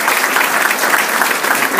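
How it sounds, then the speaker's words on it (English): Steady, dense applause from an audience at a mayoral event honoring Indiana schools and Vincennes University, continuous and close for the whole stretch with no pauses. "You can give them a round of applause."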